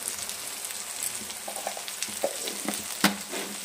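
Mutton frying in a pan with Kashmiri chili powder, a steady sizzle with occasional stirring scrapes and small pops, close and moderately loud with no talking.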